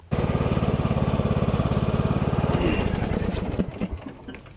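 A garden tractor engine runs steadily close by with a fast, even mechanical chug, then the tone shifts and roughens as it changes load or slows near the end.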